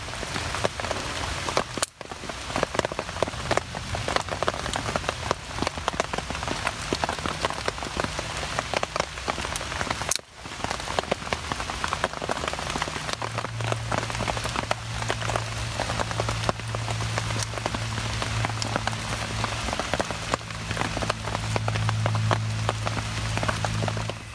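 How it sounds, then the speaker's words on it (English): Heavy rain pours steadily on a wilderness survival camp beside an Adirondack shelter with a campfire, a dense, continuous hiss close by that lasts throughout with no talking. "a heavy rain, we still got a fire."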